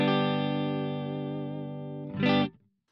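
Electric guitar chord through a Line 6 HX Effects preset rings out with a rich harmonic sustain, slowly decaying, then a brief bright strummed hit before cutting to silence.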